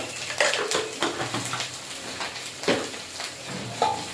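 Spice paste of turmeric, chilli, coriander and cumin sautés in hot oil for a Bengali okra-and-prawn curry, with a soft sizzle under repeated close scraping and stirring strokes of a utensil against the pan, uneven in rhythm and without speech.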